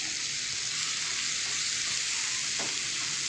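Chicken sizzles and fries in masala in a pan over a low-medium flame, giving a steady, close hiss with the faint scrape of a stirring utensil and no talk.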